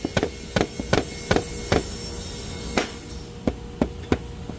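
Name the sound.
hammer tapping on a cabinet door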